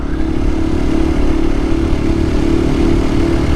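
KTM EXC-F 500 dual sport motorcycle cruising on the street in fifth gear, a loud steady engine drone mixed with heavy wind rush, heard from the rider's position through an enduro helmet.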